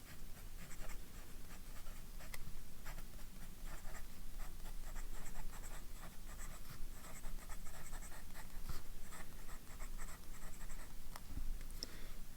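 Steady scratchy scribbling from a medium-nib fountain pen moving across paper, close and quiet, with short strokes running continuously and no talking.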